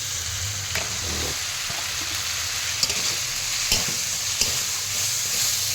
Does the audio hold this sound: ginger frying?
yes